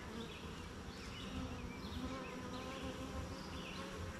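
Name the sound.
honey bees buzzing during a beginner hive inspection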